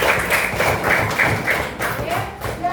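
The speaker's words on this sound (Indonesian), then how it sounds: "Oke, kasih tepuk tangan dulu." Classroom of primary-school children clapping together in a brief burst of steady, rhythmic applause, fairly close and lively, with a few voices mixed in near the end.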